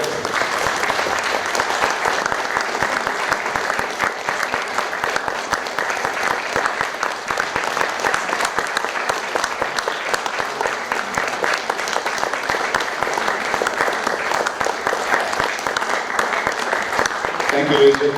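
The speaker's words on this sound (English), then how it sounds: "Why not applaud right now?" A theatre audience at a mono acting festival applauds continuously for the whole stretch, a steady dense patter of many hands, with faint voices mixed underneath.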